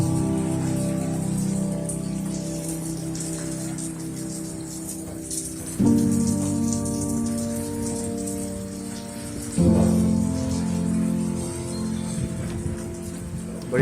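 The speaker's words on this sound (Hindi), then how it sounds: "बहुत तेज बारिश हो रही है।" Heavy rain pours over a city in Saudi Arabia, a dense continuous hiss that steps up in loudness a couple of times and stays steady throughout.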